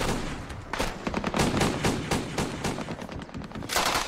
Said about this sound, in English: Machine gunner Clay Coble provided cover for demolition experts as they used explosives to seal off caves